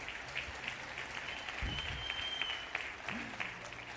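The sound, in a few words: audience applause for the gala organizers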